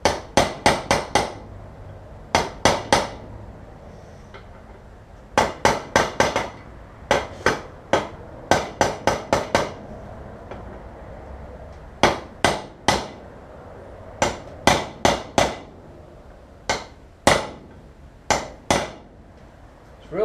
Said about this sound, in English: It's real hard to try and keep this this socket on the edge of the bearing. I've got to try and knock it in evenly.